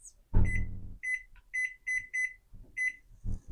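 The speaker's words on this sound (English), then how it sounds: "All right, our timer just went off" A kitchen timer going off while sourdough bread bakes, repeated short, sharp electronic beeps in a steady pattern, heard close between low thumps.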